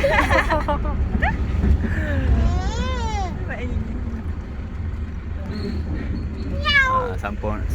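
A person imitates a cat's meow with several rising and falling mewing calls inside a 4x4 truck on a Tioman Island trip. The voice is close over a constant low engine rumble, with other voices talking around it.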